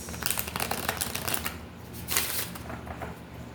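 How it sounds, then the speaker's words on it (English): A deck of tarot cards being shuffled up close in repeated riffling bursts with a brief pause between, crisp and papery, with no talking. "Shuffle this a couple times."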